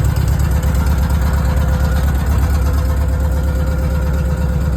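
A 1972 Volkswagen Type 3 squareback engine idles in a driveway, a loud, steady low rumble with an even, slightly uneven-firing chug throughout, no voices over it.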